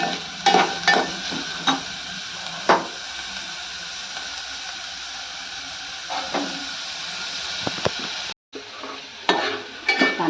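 Onion fried and stirred in a pan for a Marathi vegetable dish with shegla leaves and amboli bhakri, a steady sizzle carrying throughout with scattered spoon scrapes and clanks against the pan, one brief drop out near the end.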